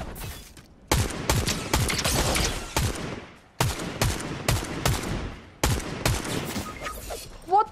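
Sniper fire in a video game: loud, sharp gunshots cracking out in three dense clusters of rapid repeated bangs, close and dominant, with no talk over them.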